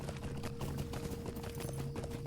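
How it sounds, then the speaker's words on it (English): Horse hooves galloping in Lord of the Rings Online, a rapid continuous clip-clop rhythm over game ambience with a steady tone underneath. "At least this horse is really fast."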